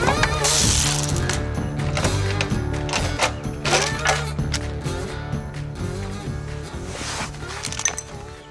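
Ratchet clicking steadily while a bolt is loosened on a go-kart engine, a rapid close mechanical rattle with some louder knocks, no talking.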